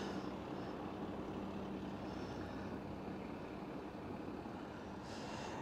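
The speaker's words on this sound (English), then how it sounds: "the plane's still circling" Low droning engine of a plane circling overhead during a night police incident at a Blackpool football ground, a faint, steady distant rumble with no voices.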